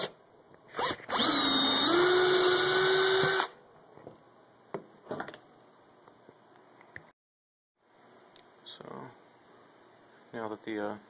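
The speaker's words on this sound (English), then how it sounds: "it's a 1/8 inch hole that I drilled in this orifice" A power drill bores a 1/8 inch hole in a gas orifice for a propane to natural gas conversion, one loud sustained whine of a few seconds followed by scattered handling clunks and small tool noises nearby.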